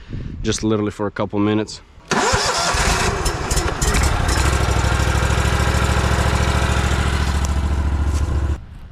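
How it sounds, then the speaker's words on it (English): A gas-powered stump grinder starts up with a rough catch and settles into a loud, steady engine roar with a strong low hum, running for several seconds after someone speaks briefly beforehand, while wind is outside. "I'm gonna start the stump grinder because I want to show you guys what I'm gonna do today."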